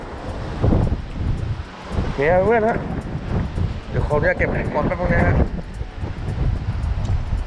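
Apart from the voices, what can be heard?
strong wind at a seaside fishing pier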